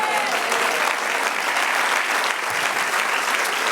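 A church congregation applauds during a sermon, producing a thick, steady wall of clapping from many people that holds at an even, fairly loud level from start to finish.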